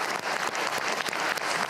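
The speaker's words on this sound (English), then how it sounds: "Let's give a round of applause to a hero of Russia." Audience applause at a live Russian presidential event, honoring a Hero of Russia: dense, steady clapping from a large crowd that holds at an even level for under two seconds, with no talk over it.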